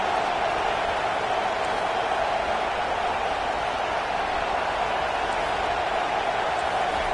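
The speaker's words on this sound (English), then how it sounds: "Decibels rising as the crowd gets behind this defense on third down." A football stadium crowd roars on a third down, a dense, steady wall of cheering and noise that stays loud and unbroken throughout.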